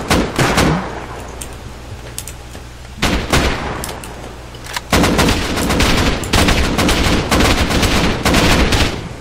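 Explosive ammunition fires in the video game Rust during a raid in dense bursts of loud, close gunshots, rapid cracks interspersed with short pauses and a few heavier booms.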